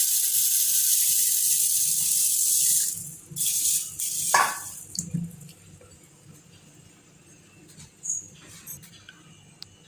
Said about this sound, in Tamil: தண்ணி ஊற்றி ஊற வச்சிடலாம்